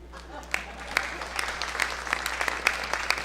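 Applause from a holiday show audience, moderately loud and building slightly, with scattered sharp claps and a steady low hum underneath, and no clear talk.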